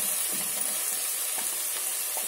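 Ingredients for green peas pulao frying in a pan, a steady bright sizzle and hiss with faint occasional stirring taps, close and without talk.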